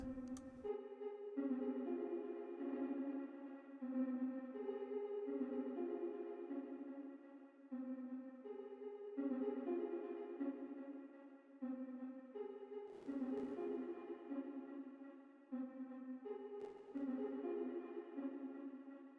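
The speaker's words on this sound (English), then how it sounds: "Let's listen to this reverb a little bit." A sustained synth plays a slow sequence of melodic techno chords, each swelling and trailing off into a wide, washy reverb tail, with no voices.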